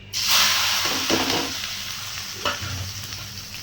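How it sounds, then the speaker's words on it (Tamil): Dried fish hits hot oil and sizzles loudly right away, a steady crackling hiss that eases slightly while being stirred. "வாங்க இப்போ எண்ணெய் காஞ்சிச்சு, கருவாடை போட்டுக்கலாம்."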